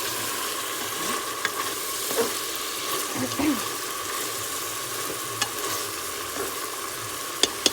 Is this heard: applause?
no